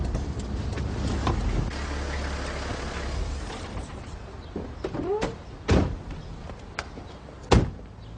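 A locked car door handle being tried, with a muffled rumble and then several sharp clunks and rattles, the loudest near the end, close by and with no talking.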